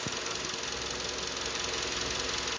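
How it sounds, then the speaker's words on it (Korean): A Hyundai YF Sonata LPi engine, recently rebored after scuffing, idles steadily and close by, with a low, even rumble and a light rhythmic ticking, then cuts off abruptly at the end. "우선 엔진 소리가 굉장히 중요해요."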